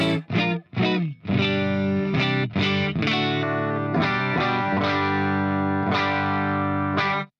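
Electric guitar played through a Hughes and Kettner Tubemeister amp with the RB1011 booster pedal off in its effects loop: a few short stabs, then sustained chords ringing one after another, loud and close with no talk.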